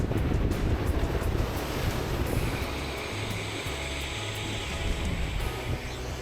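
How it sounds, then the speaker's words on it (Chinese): A constant roar of sea waves breaking against rocks during a typhoon with heavy rain, mixed with gusty wind buffeting the microphone, with no voices. "拢是海水拍伫石头仔顶面的声。"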